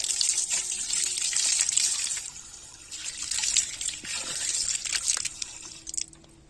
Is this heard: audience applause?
no